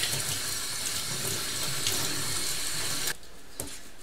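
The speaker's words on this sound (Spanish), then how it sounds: "nos vamos a la cocina y lavamos bien nuestro perejil" Kitchen tap running as fresh parsley is rinsed under the stream, a steady close hiss of water that cuts off abruptly near the end, followed by a faint drip or tap.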